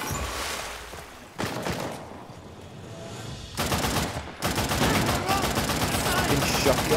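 Dense, loud gunfire from Uncharted: The Lost Legacy, including shotgun blasts, comes in heavy overlapping volleys that stop briefly and then resume with full force. A voice is faintly mixed in.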